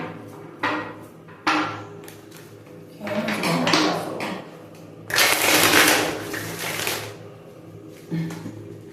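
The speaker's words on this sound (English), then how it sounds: "let me just shuffle this deck" A deck of tarot cards being shuffled, with short riffling bursts at first, then longer, louder shuffling passes, including a bright, sustained flurry near the middle, separated by quieter handling sounds.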